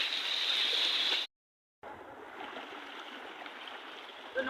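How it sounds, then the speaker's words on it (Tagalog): Sea water at a beach, a steady broad washing rush of waves heard close, cut off by a brief moment of silence before resuming at a slightly lower level. "Dito na kami sa dagat ngayon"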